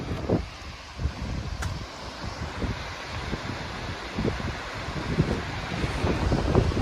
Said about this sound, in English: here we get the 70-mile-an-hour winds now